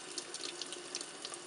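Warm water runs steadily from a tap while oil paint brushes are rinsed, a continuous splashing hiss heard alone.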